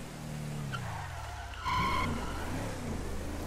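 A car skids in the video game GTA RP, a loud tire squeal that swells suddenly after a falling engine note, with engine noise continuing underneath.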